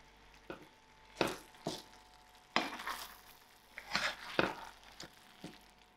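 Smoked haddock pasta in tomato sauce being stirred in a pan off the heat, with a series of soft, irregular scraping and squelching strokes, close and fairly quiet.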